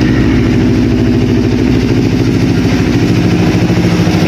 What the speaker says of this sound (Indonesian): Ini kondisi mesin hidup